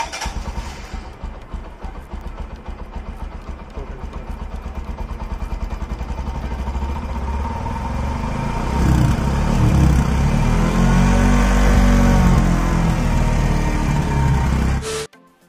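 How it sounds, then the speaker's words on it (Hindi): A Bajaj CT 110X motorcycle's exhaust note, a steady low putter at idle that rises into louder revving around the middle of the clip, close to the microphone, then cuts off abruptly at the end; no talking. "अब इसका सुनते हैं एग्जॉस्ट नोट कैसा है"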